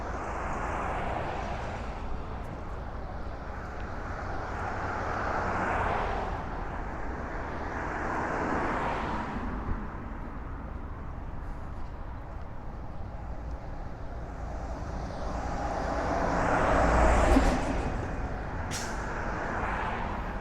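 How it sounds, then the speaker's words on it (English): Jet airplanes take off and climb at an angle over College Point in Queens, a steady distant roar that swells and fades across the street noise, louder near the end. "We're seeing all these planes come up on an angle."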